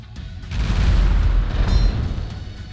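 An artillery shot in the video game Empires Shall Fall lands as a deep, rumbling boom that swells and lingers for a couple of seconds.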